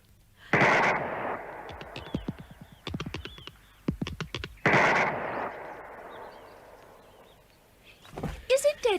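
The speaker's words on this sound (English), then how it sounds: "I'm going to shoot the top off it." Gunshot sound effects in a classic sci-fi radio drama: two loud, booming blasts several seconds apart, separated by bursts of sharp mechanical clicks, with voices speaking between them and a rattling clatter at the end.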